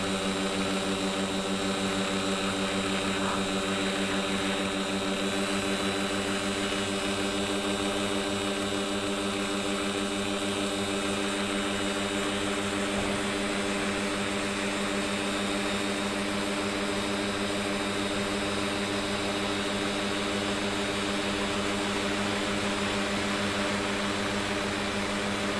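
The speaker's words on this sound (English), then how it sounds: "This was my first flight with my 3-blade Duro prop." Kasperwing ultralight in flight, its engine driving a three-blade Duro propeller, a loud steady drone with a strong hum that runs without a break for the whole stretch, with no one talking.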